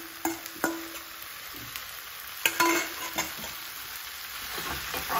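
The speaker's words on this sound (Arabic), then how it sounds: "غادي نبقى نحرك حتى كيطيب الدجاج" Chicken pieces fry with onion and pepper in a pan, a soft sizzle under scattered clinks and scrapes of a spoon stirring, with a few sharper knocks against the pan.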